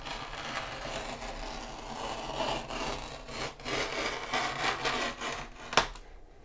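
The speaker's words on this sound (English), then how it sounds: "This veneer is easy to cut with a utility knife." A utility knife draws through thin wood veneer in repeated scraping, rasping strokes, close and steady, ending with a sharp snap as the cut finishes.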